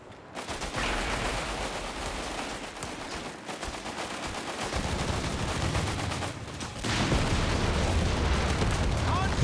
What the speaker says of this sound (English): More mortar.